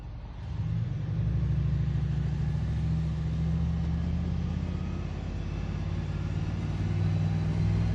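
A V8-swapped Toyota Celica GT rumbles loudly while driving, its engine climbing steadily in revs with a deep throbbing note heard from inside the car, continuous and without talk.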